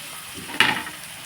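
Onions fry in a pan with a faint background sizzle, then a single sharp scrape and clatter as they are stirred, fading quickly.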